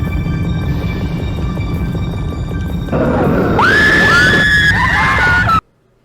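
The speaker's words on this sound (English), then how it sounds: "continue hearing these brutal screams throughout" Loud, shrill screams of people being killed in a brutal Christmas massacre video game rise over a dense rumbling game soundscape, several overlapping wails, before cutting off abruptly to silence.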